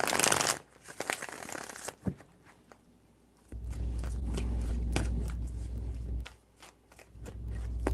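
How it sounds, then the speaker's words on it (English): Tarot cards are shuffled by hand in a few bursts of crisp riffling and flapping, close and fairly quiet, with soft pauses and handling noises between. "3 shuffles."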